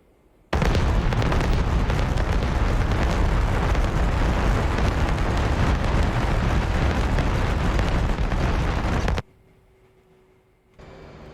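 JSOW cluster bombs from an F/A-18 strike a target in a combat flight simulator, producing a sustained, loud roar of overlapping blasts lasting several seconds before cutting off abruptly to quiet.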